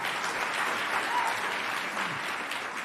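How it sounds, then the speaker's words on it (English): Steady applause fills an awards ceremony hall for the Make-Up Artists & Hair Stylists Guild, sustained clapping from a seated audience, moderately distant and even in level throughout. "Should let the applause happen."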